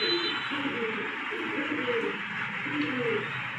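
A pigeon coos nearby in soft, rounded repeated phrases over a steady background hiss, several low warbling calls in a slow rhythm.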